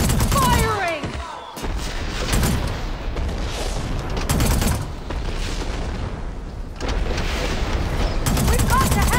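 Gunfire rattles through a battle in Horizon Forbidden West, with repeated loud bursts and volleys separated by brief lulls, mixed with shouting voices and some whistling, chirping tones at the start and end.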